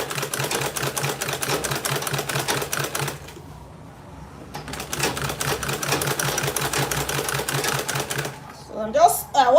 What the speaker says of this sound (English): So I'm just going to sew all around it.